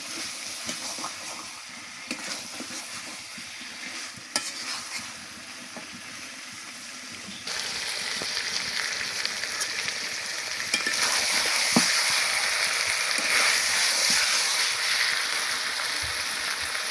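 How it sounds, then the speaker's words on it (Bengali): Desi chicken with potatoes sautéing in a pan, a steady broad sizzle that grows louder and brighter partway through, with occasional scrape and stir sounds and no voices. "ভালো করে কষাতে হবে"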